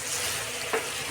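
Bitter gourd fry being stirred in a pan, a soft continuous sizzle with one brief scrape of the spoon near the end, quiet and close.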